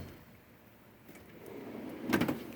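A wrench drawer on a mechanic's tool box slides open with a short, faint metallic rolling scrape that builds to a brief clunk at the end.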